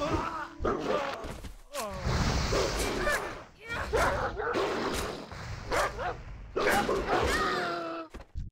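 Big dogs in the World of Warcraft video game bark and yip in quick, close, repeated bursts, with a few whimpering tones and dull thumps between them.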